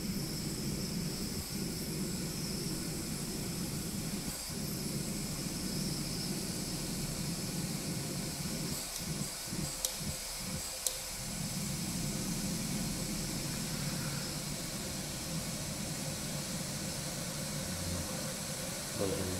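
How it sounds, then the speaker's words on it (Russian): A portable FireMaple gas burner roars with a steady hiss outdoors while boiling water in a pot, a constant, fairly quiet rushing sound with a few brief knocks partway through. "что вода закипает с этой горелочкой довольно быстро"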